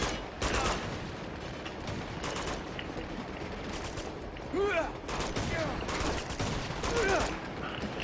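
Rapid bursts of automatic gunfire and scattered shots in the video game Uncharted 2: Among Thieves, loud and nearly continuous, with brief lulls between volleys.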